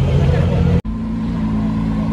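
Lamborghini SVJ leaving a supercar weekend gathering, a loud engine drone with a brief cut, then a steadier lower hum, under someone talking.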